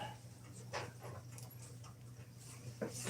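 Dogs pant quietly and rapidly in a room, with a few soft whimpers over a steady low hum and no talk.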